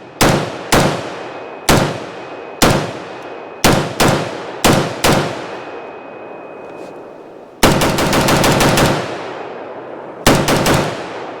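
An MKE AP53 pistol with an HK53 brace firing AAC 55 grain ammo outdoors, loud sharp single shots at an uneven pace, then a rapid full-auto burst and a few more quick shots, with no speech.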